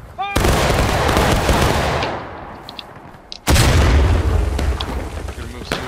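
A Civil War-era musket volley in the game War of Rights: a massive crashing burst of many shots at once, then a second loud volley a few seconds later, close and booming, with faint shouting between.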